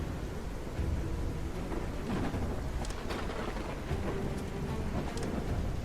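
Stormy night in the Whiskerwood mouse city-building game: steady heavy rain with rumbling thunder and a few sharp crackles, continuous and fairly loud throughout, no voices.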